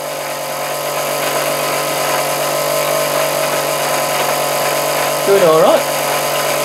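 A Meccano electric motor runs fast and drives spring-cord belts over metal pulleys, giving a steady loud whirring hum with a brief pitch wobble near the end. Someone speaks over it.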